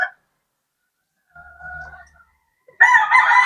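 A pure white fighting rooster, recovering from a limp, crows in short bursts: a brief note, a quieter cackle, then a loud, close, full crow at the end, separated by silence.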